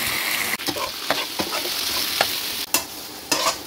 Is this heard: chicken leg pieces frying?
yes